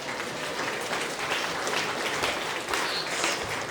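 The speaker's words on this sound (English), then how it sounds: "So give him a round of applause for passing it." Guests at a wedding reception applaud together, a steady, dense wash of clapping that fills the room without pause and carries no voices over it.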